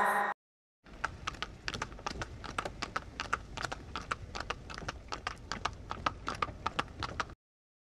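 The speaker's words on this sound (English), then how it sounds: "H for horse." Horse hooves clip-clop in a steady, fast run of sharp clicks lasting several seconds, fairly quiet and even, with no voices.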